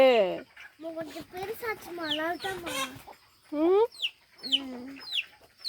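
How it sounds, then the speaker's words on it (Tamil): A chicken chick peeps and cries over and over for its mother on a farm with ducks, in loud, high, sharply falling chirps coming in rapid bursts with short pauses. "இந்த கோழி குஞ்சு பாருங்களேன் என் அம்மாவை தொலைச்சிருச்சாட்டு இருக்குது கத்திக்கிட்டே இருக்குது"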